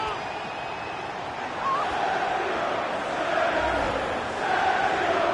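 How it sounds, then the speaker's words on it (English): A stadium crowd roars after a goal in the football video game FIFA 19, a broad sustained wash of cheering that swells partway through, with a commentator's voice running over it. "The crowd have gone crazy, and quite rightly so."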